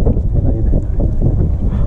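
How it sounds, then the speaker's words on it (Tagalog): Steady wind roaring across the microphone, a dense low rumble with gusty swells throughout and no clear voices. "Ang lakas ng hangin."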